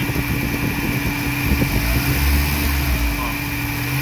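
A VW AP car engine with noisy hydraulic lifters and low oil pressure idles loudly, then revs up gently and settles back. Its rough mechanical drone holds close and continuous throughout.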